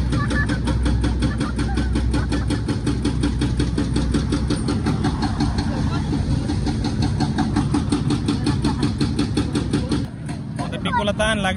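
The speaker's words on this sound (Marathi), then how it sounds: "बस आली आता, बस आली." A bus pulls up on a roadside with its engine running steadily, a loud continuous rumble close by, while voices talk over it throughout.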